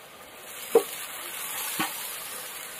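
Rice going into a pan of fried vegetables for street-style egg fried rice, a soft steady frying hiss with two distinct stirring clacks, close and fairly quiet, with no one speaking.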